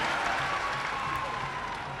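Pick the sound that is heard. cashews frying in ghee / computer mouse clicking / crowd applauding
crowd applauding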